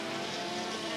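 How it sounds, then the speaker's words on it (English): A turbocharged sports sedan race car at Wanneroo Park in a 1981 round screams past at high revs, a loud sustained engine roar with no pause. "Look at that turbo lag as he backs off and a big gush of flame roars out of the exhaust pipe"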